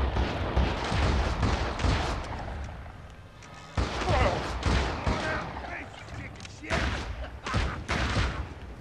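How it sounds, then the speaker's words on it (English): Close-range shotgun blasts in the Western video game Gun, heavy booming shots in irregular bursts with pauses between, loud throughout amid game noise. "Shotgun fight at point blank range"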